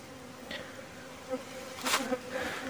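Stingless bees buzz around an opened hive on a bee farm with a faint, steady hum. Individual insects drone past the microphone now and then, briefly louder and closer.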